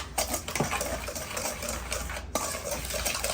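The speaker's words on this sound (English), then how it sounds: "We're going to get there with our whisk, and we're just going to combine all of the dry ingredients together." Whisk scraping through dry cornbread ingredients with sugar and baking powder in a bowl, rapid close rhythmic scratching and tapping, fairly loud and continuous, no talk.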